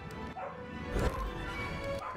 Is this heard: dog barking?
yes